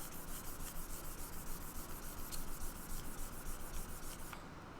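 Quiet, steady back-and-forth rasp of sandpaper on a wooden guitar part in a workshop, a regular rubbing rhythm repeating many times without pause, with no talking.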